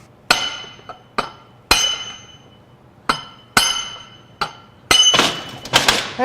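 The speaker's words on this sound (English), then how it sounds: "So we just had to tap that bearing out." Metal tapping on a bearing in a 2023 Audi E-Tron / Volkswagen ID.4 electric drive motor unit during teardown: sharp ringing clinks spaced irregularly, then a quick cluster of hits at the end, close in a quiet shop.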